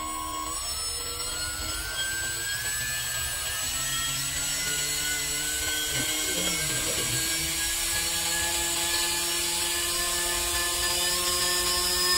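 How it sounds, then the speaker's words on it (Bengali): A 1400 KV brushless motor drives an EDF thruster, its whine climbing steadily in pitch as the speed is raised, with a loud, continuous tonal drone throughout. "এরপর ইএসসি ক্যালিব্রেট করে নেব এবং ধীরে ধীরে মোটরটির স্পিড বাড়াবো"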